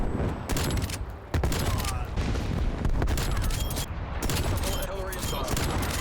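Rapid gunfire from the Grav rifle in Call of Duty: Cold War, a dense run of sharp shots firing almost continuously for several seconds, loud and close, with game effects mixed in.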